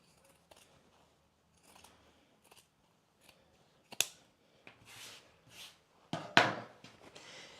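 Scissors trim about a quarter inch of fabric from around a slip dress sewn from New Look 6653, giving a series of sharp, close snips that are sparse at first and grow louder and denser toward the end.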